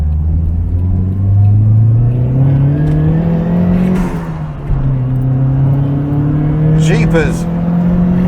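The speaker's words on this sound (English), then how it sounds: "Just hear the turbocharger just giving a little hint of mischief" A Nissan Skyline DR30 RS-X Turbo C "Iron Mask" on the road pulls hard, its turbo engine droning and climbing steadily in pitch under a voice, with a brief lift near the middle before building again.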